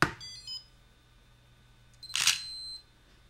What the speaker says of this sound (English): There is also an audible beep right before the camera takes a picture.